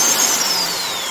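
A Vevor SDS Plus tri-mode rotary hammer runs with its hammer and rotation disconnected, giving a steady close motor whir with a high whine that slowly falls in pitch, no talking over it.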